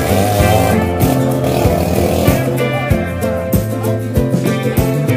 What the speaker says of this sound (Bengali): এটার ভিতরে সার্কাস হয়, বাইকের সার্কাস।